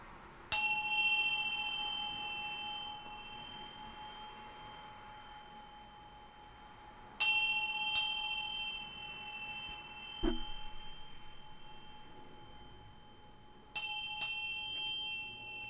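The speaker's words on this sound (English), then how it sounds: "I'm going to ring this bell to bring some good vibes." A hand bell rung in a quiet room, struck once, then twice more after a pause, and again as a pair near the end. Each clear, bright ding rings on and fades slowly, with a soft low knock between strikes.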